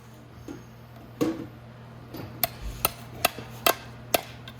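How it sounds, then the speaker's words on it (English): Several lighter hammer taps, spaced irregularly and fairly close, with a couple of duller knocks before them against a quiet background, as a water pump is knocked out of a Venom X22GT 250cc engine. "I just have to keep knocking it down and out."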